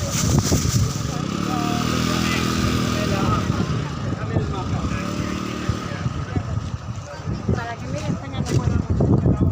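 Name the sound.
vehicles passing along a street near Vatican City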